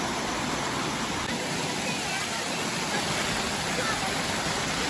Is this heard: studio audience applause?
no